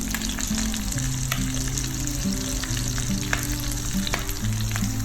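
Prawns stir-fried in vegetable oil hiss in a steady, loud sizzle, with soft scrapes of stirring and a constant low hum running underneath. No one speaks.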